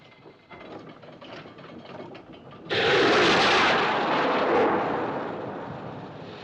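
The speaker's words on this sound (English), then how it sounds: "Looked like a rocket, sir." A signal rocket fired from a ship at sea, heard as an abrupt loud whooshing burst that follows quieter ratcheting mechanical clicks and then slowly fades.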